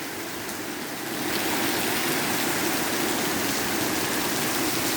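Steady rain falls outdoors in a dense, even hiss that swells louder after the first second and holds constant, with no voices heard.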